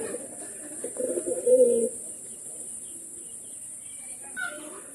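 Tournament pigeons in a loft give soft, low cooing calls, one brief louder coo standing out among faint chirps and background hiss, close by.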